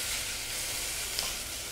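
Crushed small onions (shallots) and garlic fry in a pan, giving a steady, close, dense sizzle that holds even throughout with no voices.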